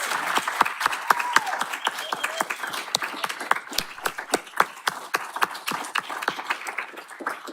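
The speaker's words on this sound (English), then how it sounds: "Let's give them one more round of applause for our graduates." An audience applauds graduates at the Saddleback College Human Services graduation ceremony of 2022, sustained clapping with distinct sharp claps standing out over a steady crowd wash, fairly close and moderately loud throughout.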